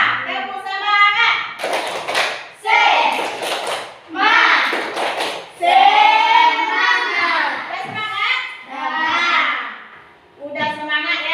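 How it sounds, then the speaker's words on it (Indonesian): A primary school class does a rhythmic spirit-clapping chant, bursts of sharp claps alternating with children's chanted voices in a fast patterned beat, loud and close, the group singing along throughout. "Kita tepuk semangat satu kali lagi"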